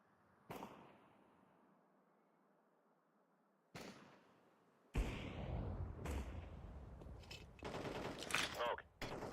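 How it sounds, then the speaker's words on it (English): Counter-Strike 2 gameplay with a grenade and a flashbang going off: sharp bursts and pops at intervals, followed by a sustained loud stretch of blasts and crackling gunfire-like noise, fairly distant in the game mix. "Throwing a grenade. Flashbang."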